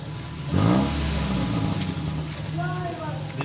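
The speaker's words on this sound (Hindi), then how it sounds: "अब जो है आप हल्की सी रेस दें जैसे पहले दे रहे थे।" After a spark plug and ignition coil change, a misfiring car's engine idles and then takes a light rev, rising, holding, and settling back, with people talking nearby.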